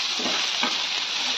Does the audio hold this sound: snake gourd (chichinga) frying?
yes